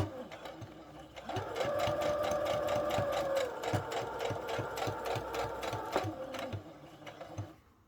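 A sewing machine stitches the pleated seam of a satin-lined bonnet, running in a steady, rapid mechanical rhythm for several seconds, then slowing and stopping near the end, close and clear.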